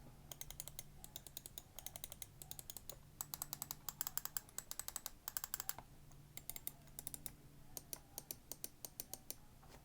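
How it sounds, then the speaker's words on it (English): Button clicks of a Thermaltake Black FP gaming mouse, rapid bursts of sharp, close plastic clicks in quick clusters with short pauses, quiet and alone. "here's a quick sound test of the Thermaltake Black FP."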